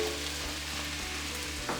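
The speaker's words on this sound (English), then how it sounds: "it's time to add in the mushrooms into this" Mushrooms sizzling in a hot pan over a high flame for mushroom stroganoff, a quiet steady frying crackle with a brief stirring clatter near the end.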